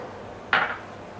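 Vermicelli tipped into hot ghee in a pan gives one short, bright sizzling burst that swells quickly and fades within about a quarter second, heard close and alone over a quiet kitchen background.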